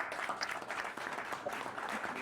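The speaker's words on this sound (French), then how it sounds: "Je voudrais, au nom de tous, dire merci à Ange Nyoka à travers un applaudissement." Steady applause from an audience at a press conference where a candidacy for the legislative elections in Guehiebly is announced; dense, continuous clapping fills the short stretch without pause.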